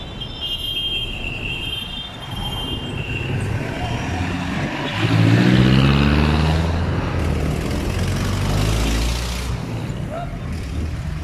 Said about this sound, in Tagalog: Dito, may tricycle.